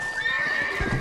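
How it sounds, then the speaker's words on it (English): A horse in the Red Dead Redemption video game whinnies loudly across the whole second, with a few hoof clip-clops and a low snort near the end. "Deixa eu estacionar meu cavalo aqui"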